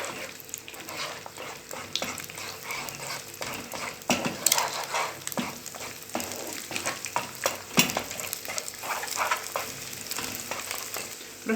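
Eggs sizzle and fry in a pan of fava beans with a steady crackle, broken by scattered clinks and stirring scrapes of a utensil against the pan, fairly close and with no talking.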